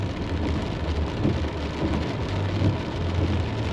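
Rain falls on a moving car, a steady dense hiss of drops on the body and glass with low road rumble underneath, continuous and fairly loud with no voices.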